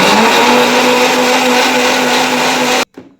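A kitchen mixer grinder whirs loudly and steadily while blending chutney for homemade pani puri, running with a strong constant motor drone before cutting off abruptly near the end.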